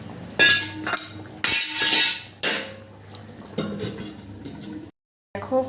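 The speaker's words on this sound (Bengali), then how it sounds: "এবার আমি ঢাকা দিয়ে দেবো।" A lid is set onto a pot of jackfruit curry, sharp metallic clanks and clinks of cookware striking close by in a few separate bursts, with short quiet gaps between them.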